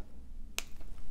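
Jewelry wire is snipped once with a sharp, close, quiet click just past the half-second, followed by a fainter tick at the end.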